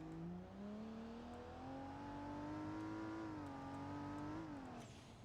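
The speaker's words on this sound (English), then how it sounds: "It definitely sounds like it's turboed. Car's definitely turbocharged." Turbocharged Toyota Supra A90 engine in BeamNG.drive revving steadily, its harmonic tone climbing gradually then dropping near the end, loud and continuous with no talk.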